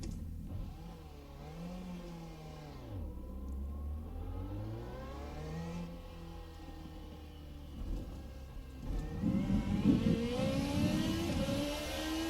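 A 3.4 liter naturally aspirated V8 race car running on a track, the engine note rising and falling through gear changes and building to a louder, rougher roar near the end.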